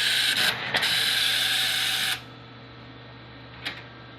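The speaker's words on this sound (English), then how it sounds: "what you're hearing is the note reader" A banknote reader in an Atronic slot machine cycles through its setup routine, giving a steady mechanical whir for about two seconds with a click near the start, then falling quiet except for one brief tick.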